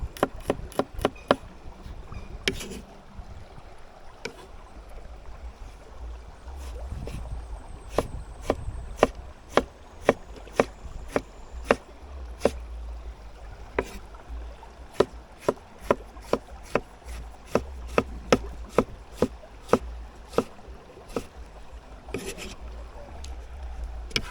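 A knife chops garlic on a board at an outdoor riverside cooking spot in Jamaica. Sharp, evenly spaced knocks repeat steadily for about twenty-four seconds, close and distinct over a low background hum.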